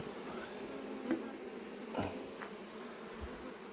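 Honey bees buzzing at a beehive outdoors, a faint steady drone with a few louder buzzes as individual bees pass close by.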